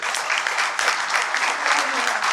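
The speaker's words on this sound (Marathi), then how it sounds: "प्लीज विनयसाठी एक जोरदार टाळ्या होऊन जाऊ" Strong applause for Vinay from former classmates at a 1992-batch school get-together, a dense, steady roar of many hands clapping, sustained and fairly loud with faint voices mixed in.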